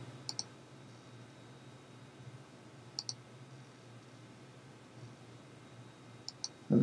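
Sharp, faint mouse clicks sound in a quiet room as a web page link is pressed, coming as a few isolated double clicks spaced seconds apart over a low background hum.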